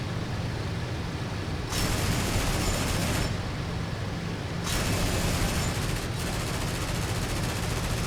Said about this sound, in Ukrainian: далі чистий кулемет, патрони закінчились на пушці